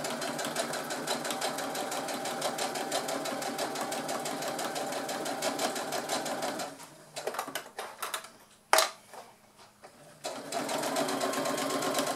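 A sewing machine runs steadily while stitching a fabric pouch with a lining. It hums in a fast continuous rhythm, stops briefly with a few handling sounds and a sharp click, then starts again and keeps stitching.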